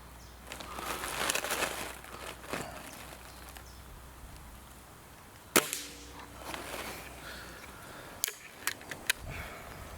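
A single sharp Hatsan air rifle shot cracks out midway, followed by a few fainter clicks and ticks against a quiet, rustling background.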